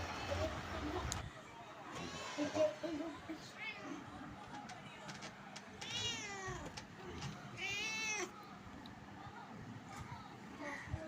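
A cat meows a few times, drawn-out rising and falling cries between stretches of quiet talking and household noise.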